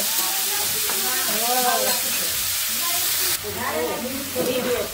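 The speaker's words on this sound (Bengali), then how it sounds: "এই যে আমি ম্যাজেন্টা কালারের ভাজি করতেছি" Magenta-coloured vegetable bhaji frying in a pan gives a steady, close sizzling hiss with occasional stirring, while a person talks over it.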